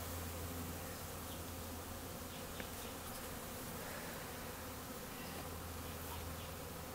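Dense, steady buzzing of honeybees being smoked down into hive frames during a hive installation, a continuous close swarm hum with no pauses and no talk.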